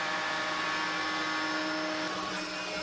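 A table saw cutting a box joint slot in wood with a jig locked to the table: a continuous loud, close whine of the spinning blade with a dense hiss throughout, no talk.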